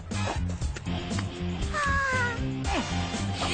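Cat meowing in a cartoon scene, several short meows over busy background music.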